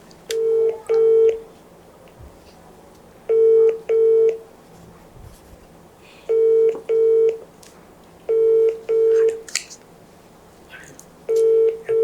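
Telephone keypad dialing tones sound in short pairs of clean beeps, repeated in evenly spaced groups every couple of seconds over a low background hum, with no talking.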